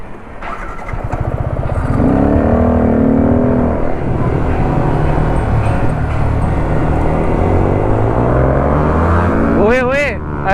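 A motorbike engine drones loudly and close as it rides into a parking area, holding a steady rumble with a sharp rev near the end. Voices talk over it.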